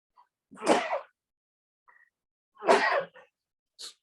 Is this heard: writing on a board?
no